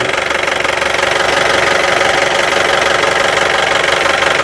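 A 2016 Mahindra Bolero 1.5 idles with a steady, throbbing sound and a low knocking rumble, close and constant throughout with no voices.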